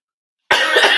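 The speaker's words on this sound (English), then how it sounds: "And I've got that cough." A single cough bursts in after half a second of silence, harsh and close, ringing out to the end with no talk around it.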